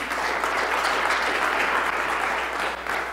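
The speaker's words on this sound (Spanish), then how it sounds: "Denle un fuerte aplauso al Señor." Loud, steady applause from a church congregation at a celestial camp service, dense clapping sustained without break throughout.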